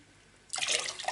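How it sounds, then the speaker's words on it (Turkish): Cold water poured into a pot for revani syrup, a sudden rushing splash that starts after a quiet moment and continues steadily for a brief stretch, close and fairly loud, alone without talk. "Şimdi 3 su bardağı da soğuk suyumu ekleyeceğim."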